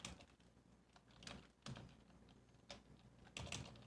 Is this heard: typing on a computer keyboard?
yes